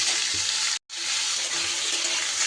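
Radish pieces fry and get stirred in hot oil, giving a continuous close, loud sizzle with a brief gap partway through.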